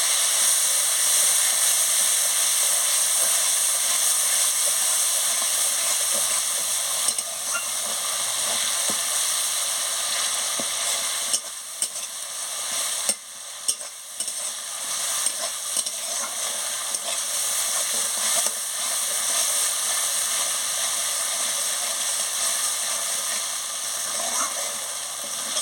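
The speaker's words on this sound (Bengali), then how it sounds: "মশলার জলটা দিয়ে ভালো করে মশলাটাকে ভেজে নিচ্ছি" Spice masala with turmeric and salt fries in a pan with spice water added for an okra and potato curry, a steady dense sizzle running throughout, fairly loud, with a voice talking faintly at times.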